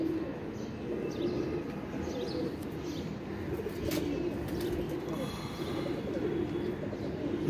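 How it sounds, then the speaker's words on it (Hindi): Pigeons cooing softly in a steady, continuous murmur among fancy-bred birds, with occasional chirps over a dense background of rustling and bird noise, no voices. "ये टैडी कबूतरों में से टैडियों में से ज़ीरे निकलते हैं ये।"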